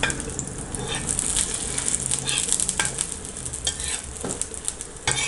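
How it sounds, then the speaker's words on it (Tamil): Beaten egg mixture for muttai kalakki hits a hot tava and sizzles loudly and steadily up close, with scattered scraping taps of a spatula as it is turned. "இப்போ தவா காஞ்சிருச்சு, நம்ம ஊற்றிக்கலாம்."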